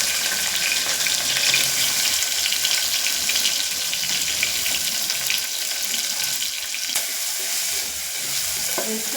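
Onions sizzle and fry steadily in hot oil inside a pressure cooker while chicken curry is being made, a loud, continuous crackling hiss with faint stirring and no talking.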